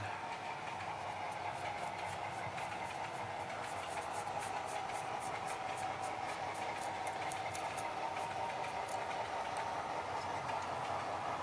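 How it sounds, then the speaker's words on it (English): A freight train with ore loads and an Amtrak coach rolls past on curved track, a steady rumble with faint rhythmic clicking of wheels over rail joints, no talking. "That Amtrak coach is pretty cool."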